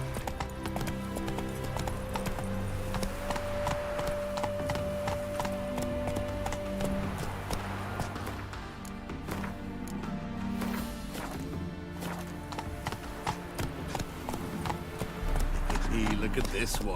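Roach the horse galloping in The Witcher 3 video game, a steady stream of clip-clop hoofbeats running throughout over game music, with a voice talking at times.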